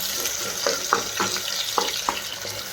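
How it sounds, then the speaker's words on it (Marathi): Onion frying in oil inside a pressure cooker on a gas stove gives a steady close sizzle, broken by a few soft stirring scrapes, with no talk over it. "कुकरमध्ये तेल आणि आता मी कांदा असा चांगला तळून घ्यायचा आहे आपल्याला"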